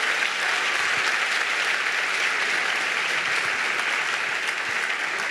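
A large crowd applauds steadily, dense continuous clapping at an even volume throughout.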